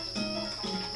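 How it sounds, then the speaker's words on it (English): A cricket chirps indoors in a house, a steady high, thin trill that carries through the whole moment at moderate loudness with no voices. "I think there's the cricket in Trial House."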